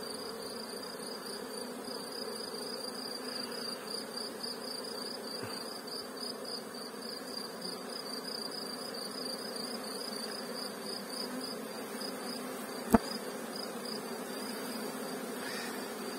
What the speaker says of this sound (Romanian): Albina a început zborul